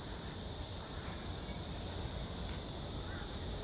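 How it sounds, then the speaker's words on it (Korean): Cicadas buzz in a loud, steady, unbroken drone that fills the whole stretch, alone and with no talk over it. "매미 소리"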